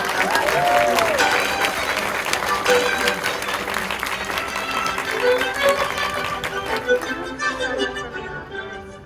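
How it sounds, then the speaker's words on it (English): Full-house audience applauding a screening of the film Chevalier, a dense, steady wash of clapping with some cheers that holds loud throughout and thins slightly toward the end. "let's give this amazing movie another round of applause"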